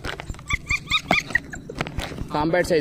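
Two small female Shih Tzu puppies give a series of short high yips and thin whimpers close by, scattered irregularly, with a voice speaking over part of it.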